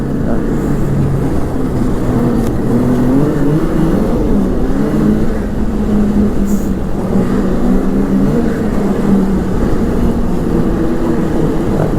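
A Ski-Doo Renegade 900 ACE snowmobile on a test drive, its engine holding a loud, steady drone with a slowly wavering pitch for the whole stretch, and no voices.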